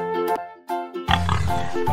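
A brief sung melody gives way to a loud burst of pig oinks and grunts that continues to the end, close and noisy.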